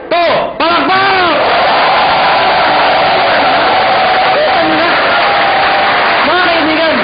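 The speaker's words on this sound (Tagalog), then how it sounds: "Sabay-sabay ha, 1, 2, palakpak!" An audience at a marketing seminar claps together on a shouted count, a loud sustained wash of applause and cheering that follows a voice calling out the count over the crowd.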